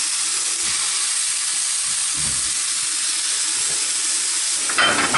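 Escalopes searing in a hot pan with mushrooms, a loud steady sizzle and hiss filling the whole stretch with faint knocks underneath, no talking.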